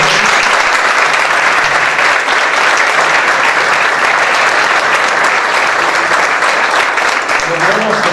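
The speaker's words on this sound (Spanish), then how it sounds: "renovamos el aplauso para..." Sustained audience applause fills the room at a public lecture honoring Pope Francis, dense and steady throughout with no pauses, loud and close.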